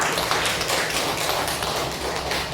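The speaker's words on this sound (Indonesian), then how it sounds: "Oke, kita kasih aplaus untuk mereka." Students applaud in a classroom with a dense, even patter of many hands clapping for a few seconds, moderately loud and without talk.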